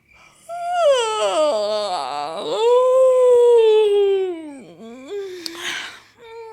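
A long, loud, drawn-out yawn, voiced and wavering in pitch, sliding down and trailing off into a breathy sigh, likely a voice imitating it.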